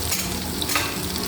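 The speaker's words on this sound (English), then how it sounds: "fry the onion, ginger, garlic paste next. Just going to fry these very quickly in the same pan." Onion, ginger and garlic paste fries in a pan with a dense, loud sizzle that holds steady through the whole short moment, along with a faint stirring scrape.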